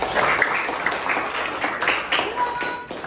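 A class of students claps together during a teacher's coaching lesson, steady dense applause lasting a few seconds, moderately loud, with some voices mixed in.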